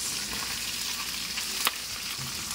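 Hot oil sizzles and crackles steadily as fish fries, a continuous hiss with a brief louder pop near the middle.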